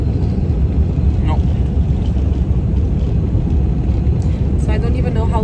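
Inside a private jet cabin in flight, a loud, steady low roar of engine and airflow noise fills the whole stretch, with a voice briefly speaking over the constant drone.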